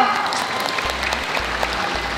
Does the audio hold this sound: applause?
yes